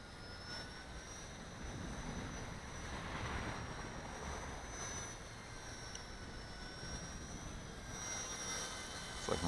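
Continuous high-pitched whine of a Blade 200 SR X brushless radio-controlled helicopter buzzing nearby, steady with slight pitch wavering, over broadband wind-like noise.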